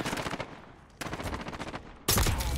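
AS VAL assault rifle firing normal rounds in Warzone, loud close automatic bursts: a short volley, a second longer burst after a pause, then a sharp heavy burst at the end.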